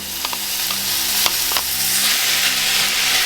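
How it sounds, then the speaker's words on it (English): Beef sizzling and frying steadily in a pan with softened onions for a steak and vegetable pie, a loud continuous hiss with occasional stirring clicks and scrapes, with no talking. "now the onions have softened, we'll put our beef in"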